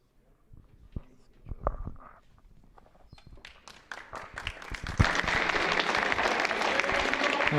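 Crowd applause rising at a high school senior basketball game as an injured player gets up, with scattered footsteps and thumps before the clapping swells to a dense, sustained roar.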